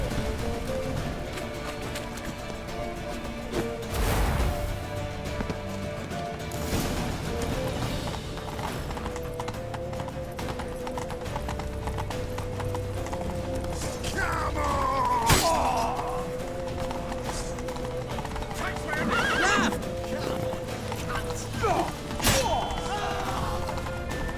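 A horse in The Witcher 3: Wild Hunt gallops with steady clip-clopping hooves, whinnying a couple of times over a busy, music-like game soundtrack.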